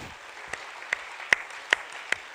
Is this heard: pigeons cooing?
no